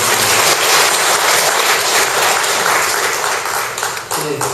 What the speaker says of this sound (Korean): 이경윤 전 교수님께 다시 한번 박수 부탁드리겠습니다